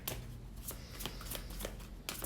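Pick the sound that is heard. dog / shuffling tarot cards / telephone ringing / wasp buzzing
shuffling tarot cards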